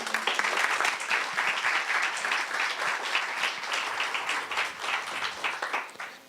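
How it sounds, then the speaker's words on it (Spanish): An academic audience at a university humanities conference panel in Mexico gives a sustained round of applause to welcome a speaker, dense even clapping at moderate loudness that tapers off near the end. "Les pido un fuerte aplauso"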